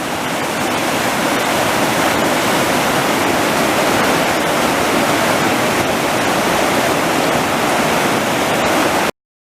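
The river in Shenandoah National Park, along the Rose River fire road, at a point where it splits into two channels, rushing loudly and steadily as a dense, unbroken wash of water, close by, with no voices.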